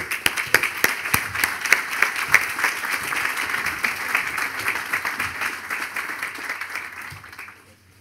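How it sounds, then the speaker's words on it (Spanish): A breakfast audience gives warm welcoming applause, dense clapping near and far with sharp individual claps early, holding steady before fading out toward the end. "¿Y, qué, qué les parece una cálida bienvenida con un aplauso?"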